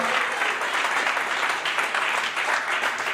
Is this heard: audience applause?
yes